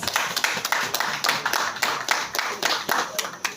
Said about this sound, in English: can we please clap for ourselves for being here tonight?